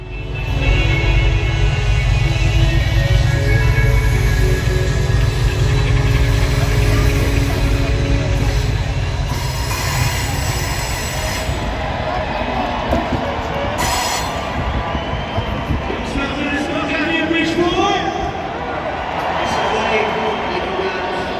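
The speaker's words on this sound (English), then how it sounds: "capture Metro-North EMD GP35R 102 running westbound on track 3" A Metro-North EMD GP35R diesel locomotive rumbles past nearby in Bridgeport, Connecticut, with a deep, sustained engine drone, clattering railcar wheels and a brief squeal, loud throughout.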